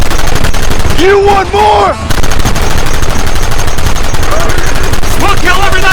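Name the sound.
gunfire in a shootout, from video game Red Dead Redemption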